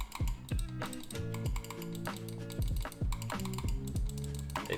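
Modded computer mouse switches clicking in quick, crisp bursts of sharp taps, close up over steady tonal background sound.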